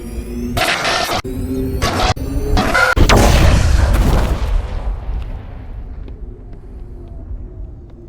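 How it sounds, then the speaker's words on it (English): An explosion in the Mass Effect video game, preceded by several sharp bursts and followed by a loud booming blast that rumbles and slowly fades, with no voices. "Explosion."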